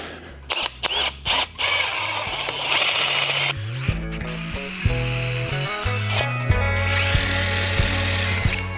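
A power drill whines and bores into a wooden log in several short bursts, then runs longer with rising and falling pitch, loud and close.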